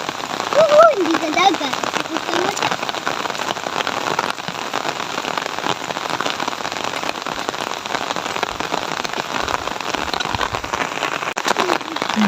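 Steady rain falls on a surface with dense, even patter throughout, and a voice speaks briefly near the start.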